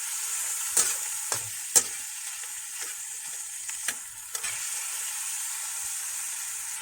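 Pancit noodles fry in a pan with pansit bato, hotdog and chicken liver, giving a steady close sizzle broken by several sharp scraping stir strokes and clinks, with no voices.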